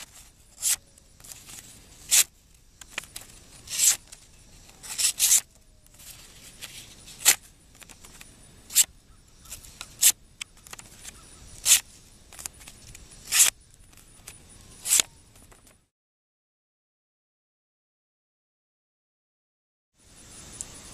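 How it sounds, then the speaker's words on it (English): The small blade of a Leatherman Squirt P4 multitool slices through paper in a series of quick, crisp rasping cuts spaced about a second apart, ending in silence before one final slice. "a quick cutting demo, a paper cutting demo for the Leatherman Squirt P4's"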